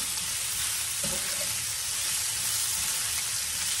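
Potatoes cooking hot in a skillet make a dense, even sizzle that holds steady and close throughout, with a faint knock near the start and no speech.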